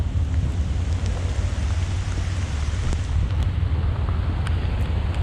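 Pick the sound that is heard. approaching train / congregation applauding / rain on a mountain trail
rain on a mountain trail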